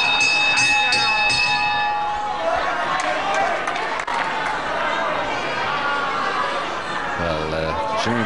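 A bell rings out to end round 2 of a Jim Breaks versus Steve Grey wrestling bout, a few clear rings at the start amid a noisy arena crowd and running commentary.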